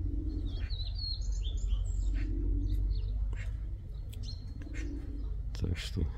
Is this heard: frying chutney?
no